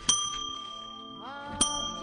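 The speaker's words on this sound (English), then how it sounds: "I think I hit the inappropriate bell better than you." A small bell sound effect struck twice, each strike a bright ding that rings on, heard up close with no talk over it.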